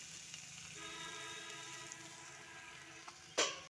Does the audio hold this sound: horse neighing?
no